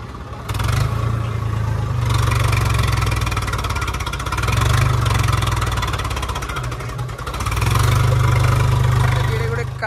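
Swaraj 855 tractor engine running steadily at a loud, close idle with a low throbbing drone, rising briefly in a few revs, during a Nagar Kirtan procession; voices talk and crowd noise mixes in throughout.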